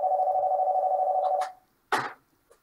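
A phone gives a steady electronic tone for about a second and a half and breaks into a quiet moment, followed by a short clunk and a faint click, like a handset being handled.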